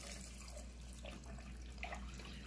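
Water being poured into a pressure cooker pot with penne pasta, a steady soft splashing stream that runs continuously and fairly quietly.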